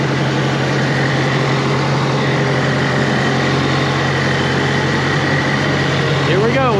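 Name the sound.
engine of a used roller running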